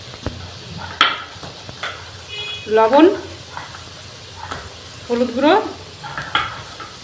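Fried onions sizzle and get stirred in a pot as salt and turmeric are added while cooking mutton biryani, with steady frying hiss under someone speaking nearby.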